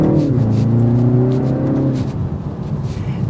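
A 2024 BMW 330i four-cylinder sedan accelerating in sport mode after a downshift, a loud, steady engine drone whose pitch climbs smoothly, with road and wind noise underneath and no talking.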